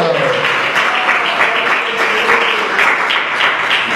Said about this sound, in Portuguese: aplaude palma